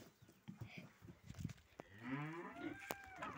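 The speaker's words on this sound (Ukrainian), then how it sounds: "Це коровки недалеко." Cows mooing on a small farm, several long, low calls overlapping from a short distance, with quieter scattered farmyard sounds beforehand.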